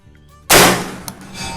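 Single loud rifle shot on a 200 m firing range, a sharp broadband crack with a short decaying echo, followed by a faint later click and ambient range noise.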